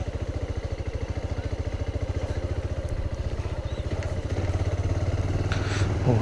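A motorcycle engine runs close by on a road toward a temple in Chhattisgarh, its rapid even pulsing thrum holding steady and swelling a little louder toward the end.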